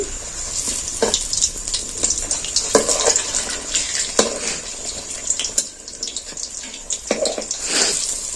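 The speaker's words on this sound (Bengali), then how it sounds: "এবার আমি এগুলো ভেজে নেব" Crumbly potato fingers made with potato and Maggi sizzle in hot oil in a wok, a steady close frying hiss with brief crackling bursts and occasional stirring clatter, no voices.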